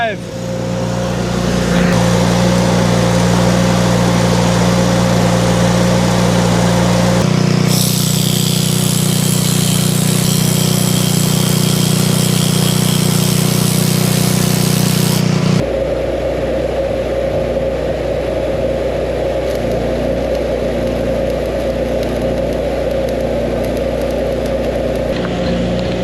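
An old Miller Bobcat engine-driven welder running at a farm repair of a grain drill cart, a loud steady engine drone that shifts pitch and load in distinct stages, with a voice talking over it.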